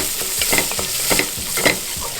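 Finely chopped garlic sizzles in a little oil in a frying pan, with steady frying hiss broken by repeated scraping stirs at an uneven rhythm, close up and moderately loud.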